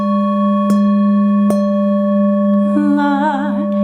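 A Tibetan singing bowl struck higher up with a mallet rings with bright sustained overtones, two clear strikes followed by a wobbling, shimmering swell of higher tones, close and resonant without speech.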